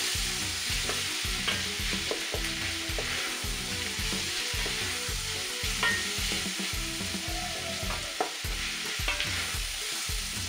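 Onions browning with beef in a hot pan, a steady loud sizzle with repeated rhythmic scrapes of stirring throughout, no voices.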